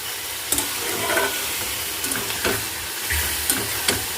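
Onions frying in a pan for a mushroom and pea stir-fry, with a continuous close sizzle and occasional stirring scrapes and knocks, and no voices.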